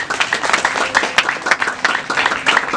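Crowd applause at a Rwandan traditional bride-asking and dowry ceremony, a dense steady patter of many hands clapping with small rhythmic swells, loud and continuous with no talk over it.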